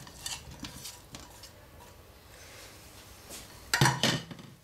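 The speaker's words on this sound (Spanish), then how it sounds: "Cuando las gambas están ya listas, añadimos todo a una misma sartén." Sautéed prawns and other ingredients tipped together into one frying pan and stirred, with scattered metallic scrapes and clinks of a utensil against the pan and a louder clattering burst near the end.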